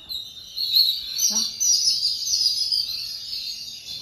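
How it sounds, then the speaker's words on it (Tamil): Small crested bird (konda kuruvi) chirping loudly and continuously near a home kitchen, a bright steady stream of high tweets close to the microphone. "கொண்டமா குருவின்னு சொல்லுவாங்க."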